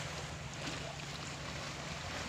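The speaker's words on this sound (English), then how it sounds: "and also the waves." Sea waves wash onto a beach with clear water and rocks, a steady broadband rush of surf mixed with wind buffeting the microphone, continuous and fairly close, with no talking.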